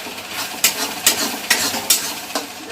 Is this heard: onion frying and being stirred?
yes